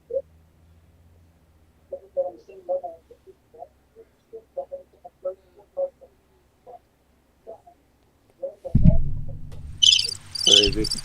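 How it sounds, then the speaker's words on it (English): A cricket chirping sound effect: clear, repeated insect chirps in an irregular rhythm, followed by louder, busier sound near the end. "Crickets."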